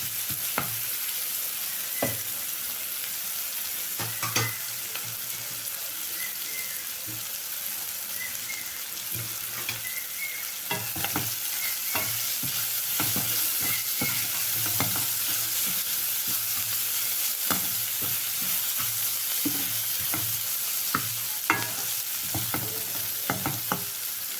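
Chopped onions sizzle steadily in hot oil with tempered urad dal and spices for a tender jackfruit stir-fry, with a continuous crackling hiss and occasional stirring scrapes throughout, no voices.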